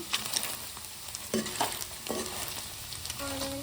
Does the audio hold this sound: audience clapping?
no